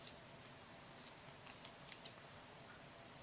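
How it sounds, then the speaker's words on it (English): A few faint, quick snips from blunt scissors cutting string, spaced unevenly and set against quiet background noise. "I'm going to cut the string towards the end"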